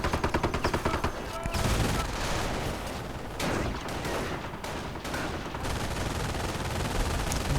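Rapid gunfire and sniper shots in a WWII strategy game battle, dense overlapping cracks and bursts throughout, loud and busy with faint background rumble.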